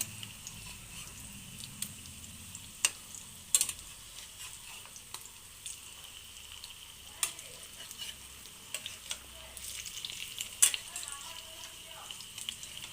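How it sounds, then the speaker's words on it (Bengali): Food pieces frying in a home kitchen pan and being turned over one by one give a soft, steady sizzle with scattered light clicks of the utensil, fairly faint and with no one talking. "দেখো, সবগুলো উল্টাইছি, কমপ্লিট করে ভাজে নামাইছি"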